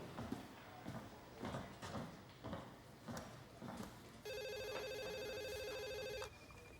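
Desk telephone ringing in a police detective's office, a steady electronic trill that starts partway through after a stretch of soft footsteps and shuffling movement, fairly quiet in the room.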